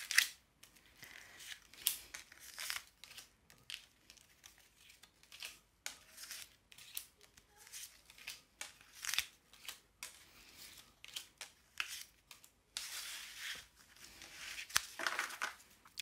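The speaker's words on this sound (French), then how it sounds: "je remélange" Tarot cards are shuffled by hand in quick, crisp riffling and slapping bursts, close and fairly quiet, continuing in uneven rhythm without talk and briefly intensifying near the end.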